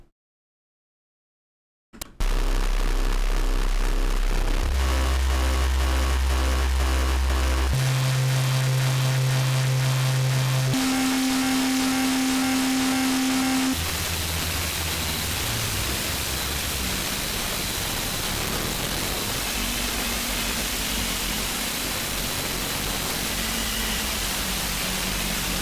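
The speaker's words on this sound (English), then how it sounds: "Testing the sound of JPEG compression. Pretty good distortion." Harsh digital noise from audio databended with JPEG compression, with stepped tones and buzzing hum shifting abruptly between sections, then turning into a dense, gritty hiss.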